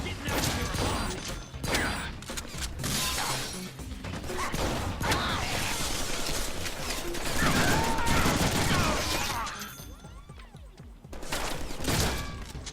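In the Deadpool video game, an explosive charge goes off amid a rapid fusillade of gunfire and crashing debris, with loud bursts layered over game effects.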